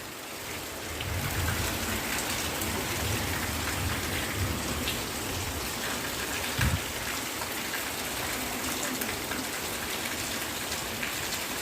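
Steady monsoon rain pours down in the Lanja countryside during the rice-planting season, a dense continuous hiss of drops on surfaces that holds even and loud throughout.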